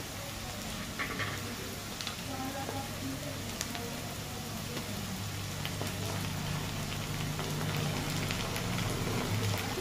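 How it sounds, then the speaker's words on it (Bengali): Ginger-garlic paste sizzles steadily in a pan of lightly fried onions while a lote fish dish is cooked, giving an even, continuous crackling hiss at close range with no talk. "বন্ধুরা, পেঁয়াজটা হালকা ভাজা হয়ে এসছে। তো এবারে আমি আদা রসুনের পেস্টটা দিয়ে দেবো।"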